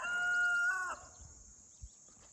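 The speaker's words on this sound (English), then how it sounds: "Ain't that the prettiest rooster you ever seen?" A rooster crows once, a faint, drawn-out call heard at a distance outdoors near a shooting range, fading into quiet rustling afterward.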